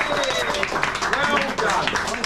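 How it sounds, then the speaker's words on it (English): An audience gives a short round of clapping at a comedy crossword show, the applause running underneath a person talking. "A round of applause to yourself."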